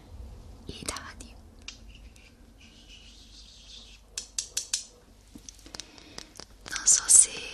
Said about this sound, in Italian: i dadi, questi dadi qui, li ho chiamati los pájaros del sueño